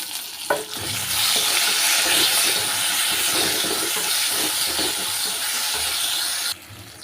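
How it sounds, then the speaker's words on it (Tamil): Tomato and pumpkin fry in a pan for a pumpkin poriyal, a steady close sizzle with bursts of stirring that stops abruptly near the end. "தக்காளி எல்லாமே நல்லா வதங்கிருச்சு"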